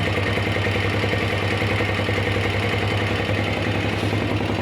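An RKS Winner 200 motorcycle engine idles steadily with a low, even rumble and light mechanical clatter, stock exhaust, close and continuous throughout.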